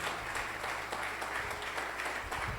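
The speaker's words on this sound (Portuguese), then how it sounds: "Você pode aplaudir ao Senhor Jesus?" Church congregation applauding during a service, a fairly faint, continuous patter of many hands clapping in the room at an even pace.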